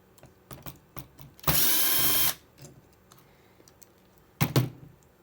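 Power drill unscrewing fog light bolts on an SRT4 while fitting aftermarket LED fog lights: one loud, close whirring burst of nearly a second, then a shorter second burst, with faint clicks and handling noises between.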